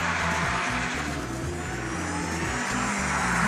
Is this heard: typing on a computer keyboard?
no